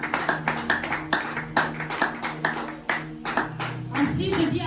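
A church congregation claps loudly and rhythmically while acclaiming the Lord, with dense repeated hand claps and voices mixed in, ending in a swell of cheering.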